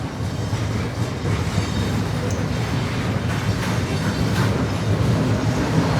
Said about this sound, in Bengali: ট্রেনকে আবার চলে যাচ্ছে